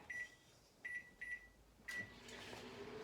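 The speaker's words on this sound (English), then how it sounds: "now I'm gonna put this in the microwave for 90 seconds" A microwave oven heating a chocolate mug cake, a few short electronic beeps as the buttons are pressed, then the low steady hum of the oven starting up, quiet and close.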